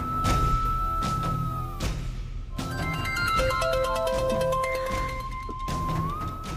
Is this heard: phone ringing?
yes